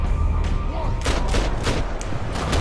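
Rapid gunfire in the video game Max Payne 3, a dense burst of overlapping shots over a continuous low rumble of game sound, loud and close throughout.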